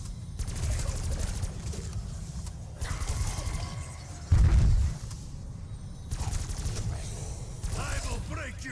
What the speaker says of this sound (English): Robot fire support incoming.